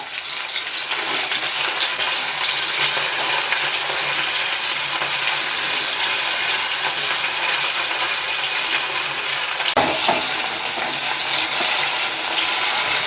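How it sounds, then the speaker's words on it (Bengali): Potatoes fry lightly in hot oil with five-spice for a cabbage curry, a steady loud sizzle running throughout with one brief clink near the end. "এরপরে দিয়ে দিচ্ছি আলু। আলুটা হালকা ভেজে নেব।"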